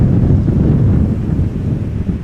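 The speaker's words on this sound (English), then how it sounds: "it is still a bit chilly. It's particularly because of the wind." Chilly outdoor wind at Amsterdam Schiphol Airport buffets a microphone, a loud, continuous low rumble of wind noise with no talk and no clear aircraft sound.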